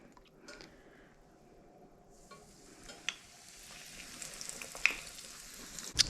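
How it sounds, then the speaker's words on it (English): Pork katsu dropped into shallow oil with a few dashes of sesame oil, quiet at first, then a rising, crackling sizzle with small pops growing louder toward the end, no talking. "What we're doing is looking to shallow fry. And we will add a couple dashes of sesame oil."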